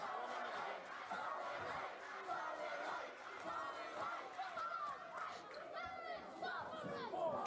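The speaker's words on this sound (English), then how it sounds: "This crowd's really into the match, though." Wrestling crowd cheering during a match, a continuous roar of shouting and chanting voices from a large audience, with a commentator talking over it.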